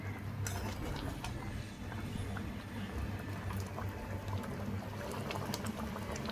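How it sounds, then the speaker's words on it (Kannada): A pot of aloo saagu, a potato curry thickened with gram flour, simmers at a steady boil. A dense, continuous bubbling burble comes from close up and holds through the whole stretch with no voices. "ಸೊ ಇದು ಚೆನ್ನಾಗಿ ಕುದೀತಾ ಇದೆ"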